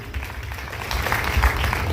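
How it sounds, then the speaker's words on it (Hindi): An audience applauds at a Hindu religious gathering in Bhinmal, a dense, continuous wash of clapping, fairly loud and slightly swelling toward the end. "जबरदस्त तालियां इनके लिए बनती।"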